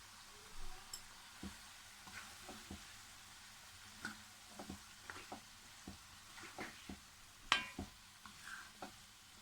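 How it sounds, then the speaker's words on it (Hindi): Peas, carrots and fenugreek leaves frying in a pan for a mixed vegetable sabzi, with a faint sizzle under a series of soft clicks and scrapes as a spoon stirs them. "मटर और ये गाजर डाल के इसको भूनूंगी।"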